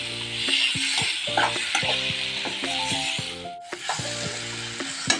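Plantain and potato pieces frying in a pan, with a steady close sizzle and repeated stirring clatters throughout, no voices.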